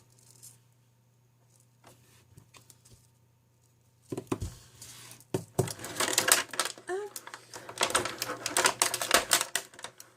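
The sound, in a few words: plastic packaging rustling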